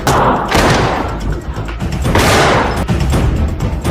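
Dense, chaotic bursts of gunfire with heavy thuds and booms from a film shootout, loud and continuous like a cinematic scene, with no voices.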